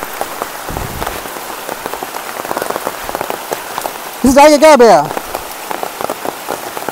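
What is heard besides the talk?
rain falling in a forest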